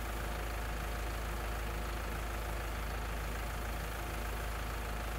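Tractor engine in Farming Simulator 19 running while it shreds a bale, a steady mid-to-low mechanical drone that holds level throughout with no voices.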